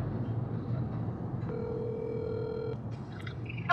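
A phone call ringing out from a handset, a steady single-pitched ringback tone holding for about a second over constant background hiss, followed by a few brief electronic blips.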